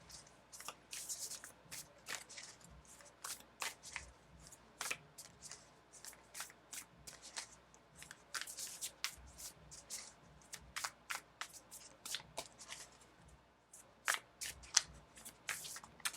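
A deck of flimsy, paper-thin tarot cards being shuffled by hand, a steady run of crisp riffling flicks and soft slaps close up, continuing almost without pause.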